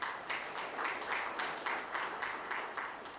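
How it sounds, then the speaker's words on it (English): Faint, scattered clapping from a small group of diners at a farewell dinner rises and falls in soft waves for a few seconds. "Please give her a round of applause."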